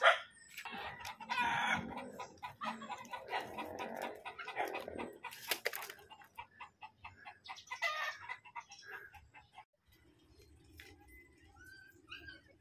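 Chickens loose around a house cluck and squawk in a busy, overlapping jumble, with a rooster crowing and a dog barking among them, loud at first then thinning to scattered calls.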